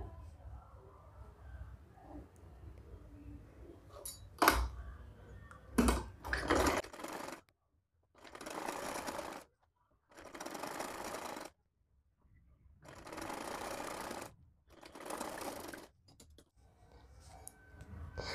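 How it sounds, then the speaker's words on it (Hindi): A sewing machine stitches a frock in several separate runs of steady, rapid mechanical whirring, each lasting a second or two with pauses between, heard close and alone after some earlier handling clicks. "सेम तरीके से इस साइड में हम सिलाई लगाएंगे"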